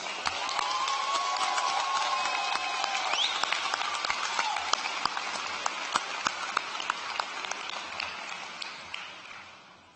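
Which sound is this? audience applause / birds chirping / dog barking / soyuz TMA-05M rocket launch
audience applause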